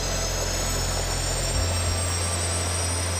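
Five small jet turbines on a flying Iron Man suit idling at high speed, a loud, dense, continuous roar with steady high whine tones and a low rumble that shifts midway, with no voices.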